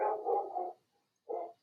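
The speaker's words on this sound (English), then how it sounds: "I'm sure you can hear the dog going off this time." A dog barks in two bursts, a longer run of barks followed by a short gap and one more quick bark, moderately close and heard alone with no talking.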